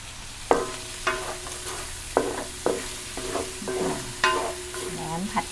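Yellow chili peppers stir-fry in a pan for a Thai fermented pork and egg dish with glass noodles, a soft sizzle broken by regular sharp scraping clacks of a spatula, about eight strokes, close and alone.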